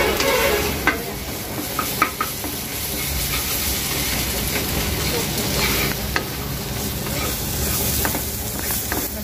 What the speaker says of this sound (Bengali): ভালোভাবে মশলাটা ভাজা হয়ে গেছে আমি রেসিপিগুলো করছি একদম অল্প তেল দিয়ে